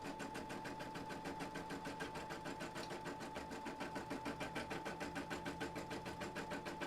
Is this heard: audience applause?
no